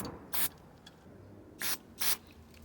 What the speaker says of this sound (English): So I'm going to spray some brake cleaner in there.